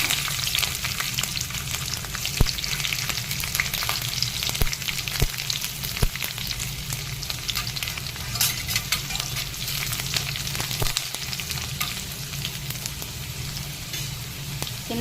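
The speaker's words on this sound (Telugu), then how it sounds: "చిట్పట్లాడిన తర్వాత మనం సన్నగా కట్ చేసి పెట్టుకున్న చిన్న ఎల్లిపాయలు వేసేసుకున్నాం." Thinly sliced small onions fry in hot tempering oil after the seeds have sputtered, for a greens fry of amaranth and fenugreek leaves, giving a dense, continuous sizzle and crackle, close and steady throughout.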